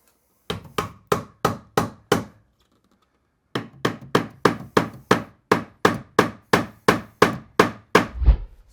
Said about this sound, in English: I'm turning my hammer sideways on purpose, so I've got more room to swing.